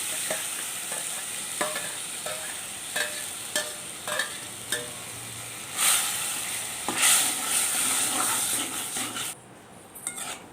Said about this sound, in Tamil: இப்போ வேறொரு கடாயில் என்ன சேர்த்து நம்ம எடுத்து வச்சுருக்க சதப்பகுதியை சேர்த்து நல்லா வதக்கி விட்டுடலாம் எண்ணெயிலே கொஞ்சம் நல்லா வதங்கட்டும்